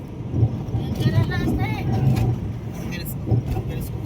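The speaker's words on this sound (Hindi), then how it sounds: "चल रही है गाड़ी।" Car driving along a road toward a barrage on the Kotdwar to Delhi route, a steady engine and road rumble with passing vehicle noise underneath someone talking.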